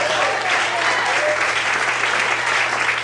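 Steady, dense applause from a large church congregation during a sermon, continuous and loud throughout with no pauses.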